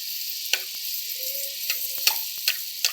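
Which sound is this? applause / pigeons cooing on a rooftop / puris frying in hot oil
puris frying in hot oil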